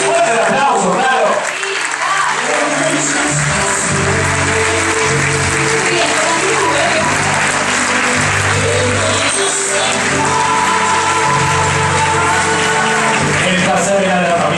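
Loud sustained applause fills the room at a haute couture fashion show in the Lahusen building, with crowd clapping continuing throughout while music plays beneath it.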